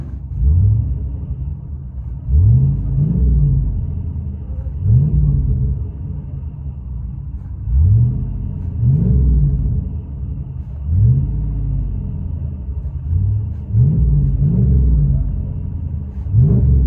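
Ram Power Wagon 6.4L Hemi V8 with muffler and resonator deleted, heard from inside the cab: a deep, loud exhaust rumble with repeated revs rising and falling over steady idle drone, no talking.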